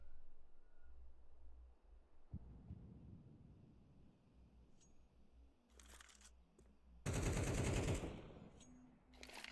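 AK rifle fire in a competitive video game, with rapid bursts of gunfire that crack out sharply near the end after a quieter stretch of faint in-game shots and movement, no talk.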